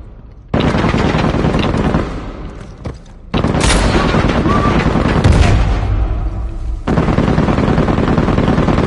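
Dense automatic gunfire from an Uncharted 4 firefight, loud sustained bursts of machine-gun fire with short breaks, booming impacts and a brief gap mid-way, no talk over it.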